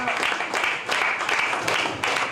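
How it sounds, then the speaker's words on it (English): Comedy club audience at a roast clapping in short bursts, moderately loud, with the applause swelling and dipping a few times. "Round of applause for my good buddy Michael Murillo."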